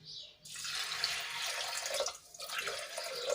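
Hot water pours steadily over lentils in a pressure cooker in a close, splashing stream, briefly dipping before continuing, with no voices.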